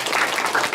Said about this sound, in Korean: 박수 한 번 더 보내주시기 바랍니다